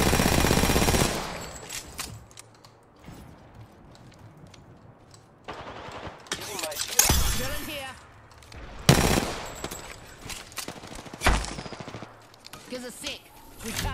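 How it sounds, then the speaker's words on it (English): Gunfire in the battle game Apex Legends, with bursts of automatic shots and sharp single cracks coming in intermittent waves, some close and loud, mixed with game effects and a voice talking over parts of it. "Being shot at."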